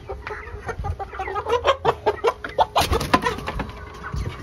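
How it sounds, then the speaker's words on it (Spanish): A rooster and a hen cluck in quick, close bursts, a rapid run of clucks and squawks rising in the middle, with a brief scuffle near the end. "Vamos a agarrar un gallito y una gallina para hacer una comparación."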